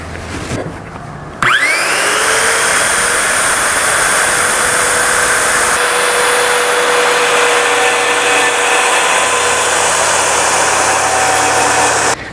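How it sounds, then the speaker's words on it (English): Circular saw ripping through a plywood guide along a fence, the motor spinning up with a sharp whine, then a sustained, loud, steady cutting drone that ends abruptly. "I'm going to make a rip cut through the guide, being careful to keep the saw's base pressed tightly against this new fence as I make the cut"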